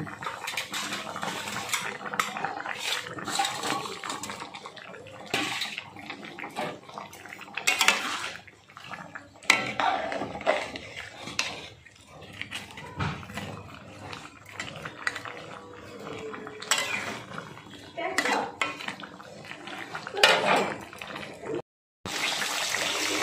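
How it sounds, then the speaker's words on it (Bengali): Fried rohu fish go into a pan of broccoli and potato curry and are stirred, giving irregular metallic clinks and scrapes of a utensil against the pan with soft liquid sounds, close and fairly quiet. "এবার ভেজে রাখা মাছগুলো আমি দিয়ে দিচ্ছি।"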